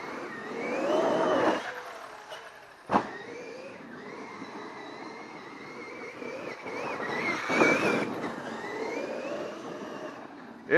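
Traxxas X-Maxx RC car, a large electric 4x2 model on stock tires, whines as it drives, with motor pitch rising and falling in long sweeps and a couple of sharp thuds, close and fairly loud.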